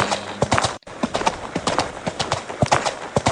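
A grey horse cantering, its hooves clip-clopping in a quick, loud, uneven rhythm close by, with a brief gap partway through.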